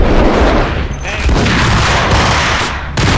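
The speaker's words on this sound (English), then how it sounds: "there's a bunch of dudes shooting at you" Enemies open fire in the video game Max Payne, a loud, dense fusillade of overlapping gunshots with heavy booms that barely lets up, pausing briefly near the end before the shooting resumes.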